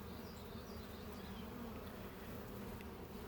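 Bees buzz steadily, a low, continuous hum close by with a few brief higher whines as individual insects pass, no speech.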